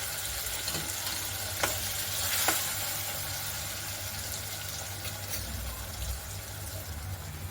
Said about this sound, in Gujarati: હવે તેમાં આપણે થોડીક દાળને એડ કરશું. આ રીતે આપણે દાળને એડ કરશું.